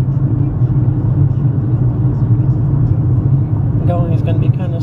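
A car cruises slowly through a national park among red rocks, its low, steady engine and road rumble close and loud under talk throughout.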